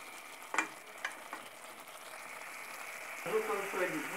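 Chicken livers frying with onion in a pan on the stove give a soft, steady sizzle, broken by a few sharp clinks of a utensil at the start and a voice talking over it near the end.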